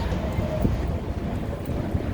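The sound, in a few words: wind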